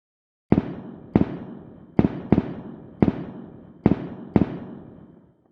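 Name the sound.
fireworks exploding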